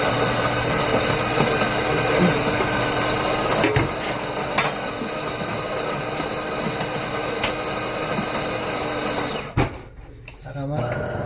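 An espresso machine brewing coffee, its steady loud mechanical hum running continuously for about ten seconds before abruptly cutting out near the end, with a few short clicks afterward.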